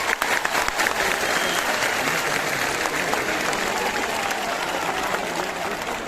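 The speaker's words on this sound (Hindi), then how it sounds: "आप सभी से विनम्र अनुरोध है कि आदरणीय बहन जी का तालियों की ध्वनि से स्वागत व अभिनंदन करेंगे।" Steady, dense applause from a large crowd fills a BSP election rally in Chhattisgarh welcoming Mayawati, continuous and loud throughout.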